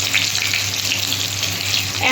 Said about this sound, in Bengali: এটা মানে ব্রাউন কালার, মানে ব্রাউন কালারভাবে আমি ফ্রাই করে নিচ্ছি